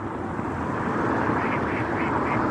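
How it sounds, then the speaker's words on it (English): A flock of ducks quacks busily and repeatedly in a dense, overlapping chorus, fairly close, over steady outdoor background noise. "they're quacking like crazy."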